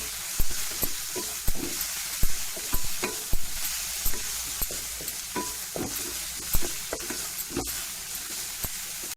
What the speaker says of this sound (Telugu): ఇప్పుడు ఇది కొంచెం ఫ్రై చేసుకుందాం. ఎందుకంటే అల్లం ఎల్లిగడ్డ పేస్ట్ పచ్చివాసన లేకుండా ఉండాలి కదా.